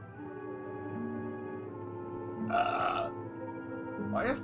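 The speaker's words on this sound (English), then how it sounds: "Why does coffee make me burp?" A person burps after drinking coffee, one short throaty belch and then a second, under a steady background hum.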